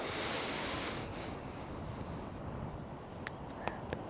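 Sea waves wash steadily onto a Konkan coast shore, a broad continuous surf roar with wind, heard from close by and without any talking.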